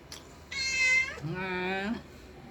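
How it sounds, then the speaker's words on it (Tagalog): A Siamese cat gives two close, clear meows, the first higher and the second lower and drawn out, with quiet room noise in the background. "May pusang pumasok na galing sa labas yan."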